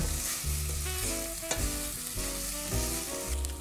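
A spoon stirs a sweet potato and quinoa mixture sizzling in a hot pan, with soft scraping strokes and occasional clacks over a constant close fry.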